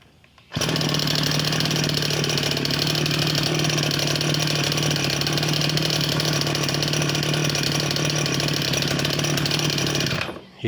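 A small Tasco TF 820 Pro sprayer engine with a modified carburetor catches abruptly on the first pull after a brief quiet moment, then runs at a loud, steady idle for several seconds before cutting off.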